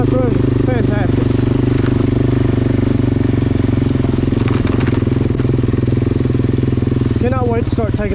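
A Suzuki LTZ-400 ATV engine runs steadily at a close, loud idle with an even throbbing rhythm, while someone talks over it at the start and end.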